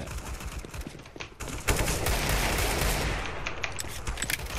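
Rapid automatic gunfire in the online shooter CS:GO, loud, dense bursts and sustained firing close up, with clattering shots filling the whole stretch and no talk over it.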